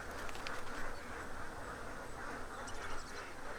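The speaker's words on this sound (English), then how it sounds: "Birds crowd around one of the few remaining shallow pools of water." Birds crowd around a shallow pool of water in the hot Australian outback, giving a dense, faint chorus of quacking and chattering calls over a steady background hiss.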